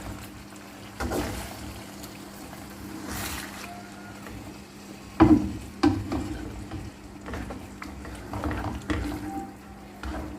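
Water poured into a pan of frying tilapia sets off a rising sizzle and bubbling, with a few sharp clatters and stirring knocks from the pan over steady frying noise; no one speaks.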